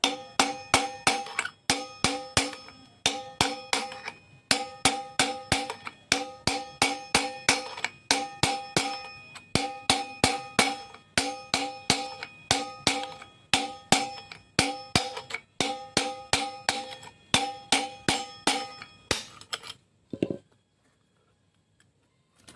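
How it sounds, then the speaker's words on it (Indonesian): Steady, rhythmic metallic hammer blows ring out on a loose, worn bearing that has been welded so it can be knocked free, dozens of sharp clanging strikes in quick succession, close and loud, ending with one final thud and silence. "Kita coba pukul apakah ini sudah bisa keluar"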